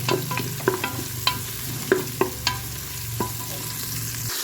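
Cinnamon, cloves and dried fenugreek leaves sizzle in hot oil with onions for tempering, a constant close frying hiss punctuated by several sharp ticks and clinks of a spoon stirring in the pan.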